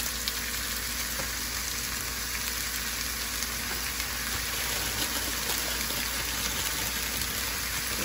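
Zucchini fries in a stir-fry pan for a teriyaki stir fry along with mushrooms, giving a steady, even sizzle and crackle throughout, close and fairly loud, with no talk.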